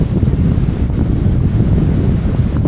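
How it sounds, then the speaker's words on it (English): Strong wind gusts buffet the microphone outdoors in West Virginia during firearm season under a wind advisory, producing a loud, continuous low roar that rises and falls slightly. "And you can hear that wind."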